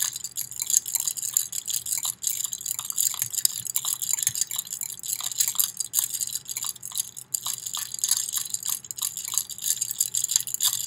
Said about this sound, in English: I gotta keep stirring.